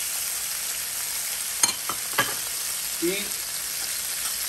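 Chistorra sausage, onion and red pepper fry in bacon fat with a constant steady sizzle, broken by a few sharp utensil taps and a brief voice.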